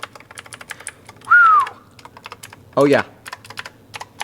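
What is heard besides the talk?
typing on Razer BlackWidow V3 TKL mechanical keyboard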